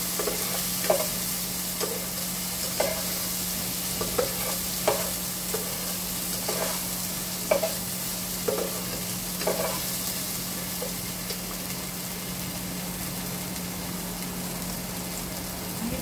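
Spice paste frying in oil in a pan, with a steady close sizzle under a regular rhythm of spoon or spatula strokes scraping through it about once a second.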